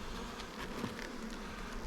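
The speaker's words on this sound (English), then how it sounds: "this one's all jacked up with bees" Honey bees crowd a hive frame laden with honey and buzz steadily. The hum is soft and continuous, with many overlapping wingbeats close by.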